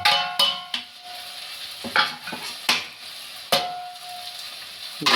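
A spoon scrapes and clatters around a pan in irregular strokes while spices sizzle softly underneath; no talking.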